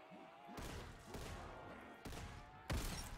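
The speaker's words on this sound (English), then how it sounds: "Automatic shotgun." Rapid shotgun blasts from an automatic shotgun in a video game, a loud burst of repeated booming shots in the backrooms setting, with the firing rolling on across the clip and a heavier blast near the end.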